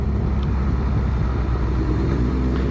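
A Honda Blackbird CBR1100XX motorcycle rolls along at slow speed through a town, its engine a steady low rumble with smooth, unbroken drone throughout, close and fairly loud with no voices.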